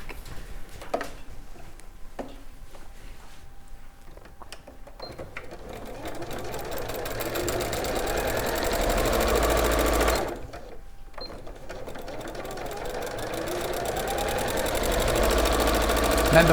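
A sewing machine tacks fabric down with a close, rapid rhythmic stitching that runs almost continuously, breaking for a moment partway through, with faint talk in the background.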